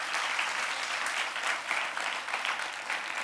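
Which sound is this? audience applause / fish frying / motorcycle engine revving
audience applause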